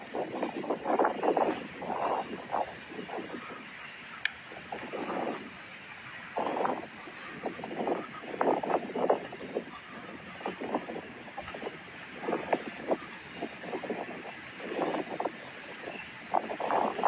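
Strong wind gusts blow at the Lenggeng forest recreation park in Negeri Sembilan. They buffet the microphone in uneven, rushing bursts over a steady background hiss.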